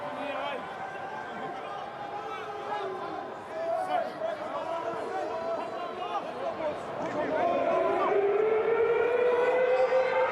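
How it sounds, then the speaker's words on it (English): A long half-time siren wails at Forsyth Bar Stadium during a rugby semi-final, rising over a noisy crowd and a commentator's voice, growing louder and holding toward the end. "There's the siren for half-time at Forsyth Bar Stadium."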